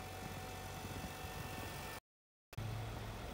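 A 2018 Nissan Qashqai with a 2.0-litre four-cylinder engine and CVT idles with a steady low hum and faint vibration, briefly cut to silence mid-way before resuming unchanged.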